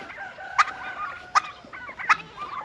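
A farm turkey loose near a hayfield gobbles three times in sharp, regular bursts over a steady outdoor background of other fowl and ambient noise.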